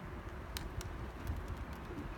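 Pigeons coo softly in a rooftop coop atop a high-rise, low repeated murmuring calls close by with a few sharp clicks and taps mixed in.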